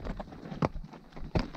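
Horse hooves clop unevenly on a rocky mountain road through a gorge, a few distinct thuds standing out over soft scuffing and faint ambient noise, with no talking.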